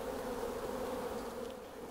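Honey bees from a package being installed into a hive buzz in a dense, continuous swarm drone as they are shaken off comb, steady and close throughout.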